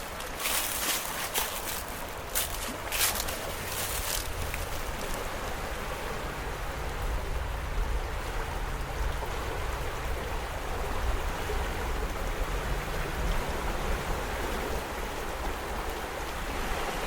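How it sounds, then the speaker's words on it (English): A stream in Hot Springs Village flows steadily, a broad continuous rushing and gurgling wash at moderate loudness, close by and unbroken throughout. "I'm a sucker for this moving water."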